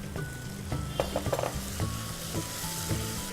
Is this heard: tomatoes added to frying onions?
yes